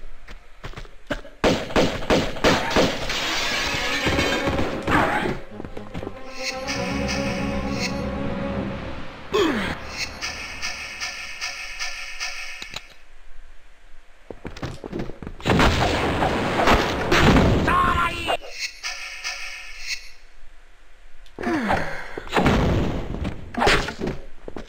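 Pistol gunfire in Tomb Raider II at Barkhang Monastery, with repeated bursts of shots across the span, broken by short quiet gaps and the character's grunts and gasps amid close, punchy impacts.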